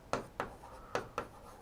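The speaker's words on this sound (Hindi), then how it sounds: "मैं यहां पे एक बार लिख रहा हूं" Four quick scratchy strokes of chalk or pen on a board, spaced unevenly across a short stretch, close and fairly quiet with no voice over them.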